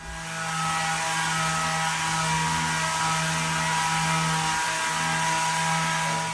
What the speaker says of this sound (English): Bit of sanding done.